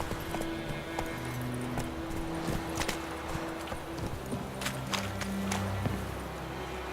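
A horse gallops in The Witcher 3, with steady rhythmic hoofbeats and clip-clop running through the whole stretch over an ambient game soundscape.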